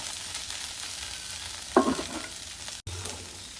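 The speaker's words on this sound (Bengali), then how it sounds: "এই যে আমার ঢেঁড়স ভাজিটা হয়ে গেছে, মানে ভেন্ডি সিদ্ধ হয়ে গেছে।" Okra (ladies finger) frying in a pan, a steady broadband sizzle with a brief louder stir or clatter near the middle, close and moderately loud, no talking.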